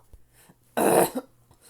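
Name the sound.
cough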